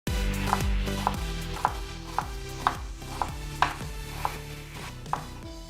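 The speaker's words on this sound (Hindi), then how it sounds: "यहाँ पर अब मैंने बंद गोभी जो है उसको हम रेडी कर रहा हूँ, इसको कट कर रहे हैं" A knife chops through cabbage on a cutting board, about ten sharp evenly spaced thuds close up, with no talking.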